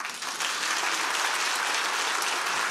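Studio audience at a comedy talk show breaks into sustained applause, a dense, even wash of many hands clapping at once, loud and steady from start to finish, with no voices over it.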